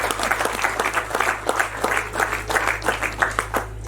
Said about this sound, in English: I think here we should clap hands.